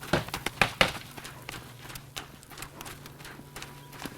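A horse's hooves clop on the ground during handling training, a quick burst of several close strikes at the start, then lighter, sparser footfalls.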